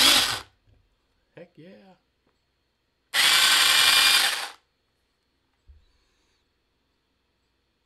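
A Seyvum CS-BM11 cordless 6-inch mini chainsaw buzzes in short bursts: a quick rev at the start, then one loud, close run of over a second, with someone speaking briefly between them.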